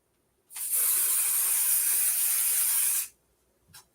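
Zig spray adhesive hisses from an aerosol can onto a cutting mat in one steady burst of about two and a half seconds, close and loud, followed by a brief faint second puff, with no talk.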